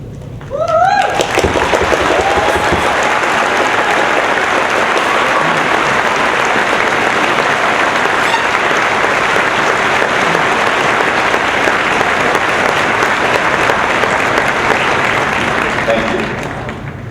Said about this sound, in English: Would all students with honor stoles please stand and receive our applause?